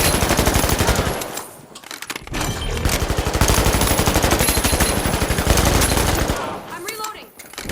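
Automatic gunfire in the video game The Finals, sustained rapid bursts filling most of the stretch, loud and close, with brief pauses between volleys.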